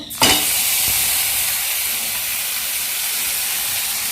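Whole cinnamon, cardamom and bay leaves hit hot oil for tempering, starting with a brief burst and settling into a steady close sizzling hiss with no talk, the first stage of a coconut prawn malai curry.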